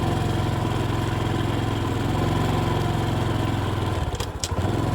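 A motorcycle rides across a new wooden bridge over a stream in Sisaket, Thailand, its engine a loud, steady, close putter with rhythmic low thumps, briefly dipping near the end.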